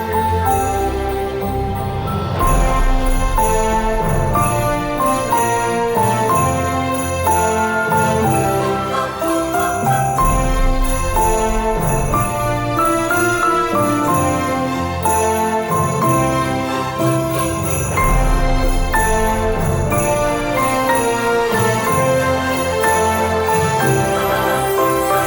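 Festive orchestral Christmas music plays loud and continuous throughout, with trombone carrying the line over ringing bells and rolling timpani accents, full and sustained with no talking.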